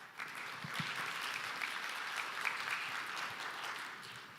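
Conference audience at the opening ceremony of an AI symposium gives a steady round of applause, fairly faint and distant in a large hall, with no talk over it.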